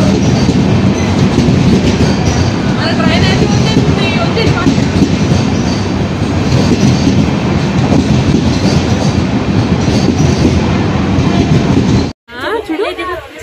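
A toy train ride at a water park near Tirupati rattles along with a loud, continuous clatter and rumble of wheels, with voices mixed in and a sudden cut near the end.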